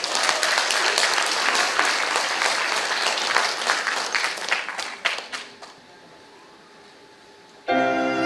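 Audience applause at a Korean talk concert, a dense, loud burst of clapping for about five seconds that fades out, followed by quiet and then the sudden start of music.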